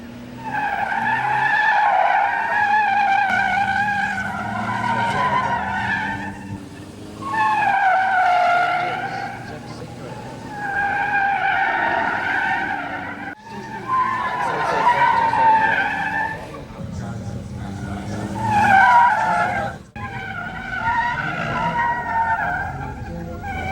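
Race cars skid repeatedly through a gymkhana course, bursts of sharp tire squeal and engine noise rising and falling in waves every few seconds, fairly close and loud, with brief gaps between runs.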